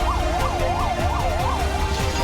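An ambulance siren wails in a rising and falling pattern, loud and continuous over a rumbling street background, amid the chaos after a multi-storey building collapse in Kota, Rajasthan.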